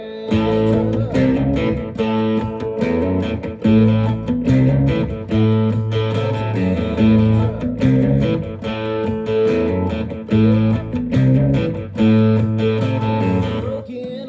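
A dry, percussive funky baritone guitar riff played in choppy rhythmic stabs, loud and upfront with no reverb tail.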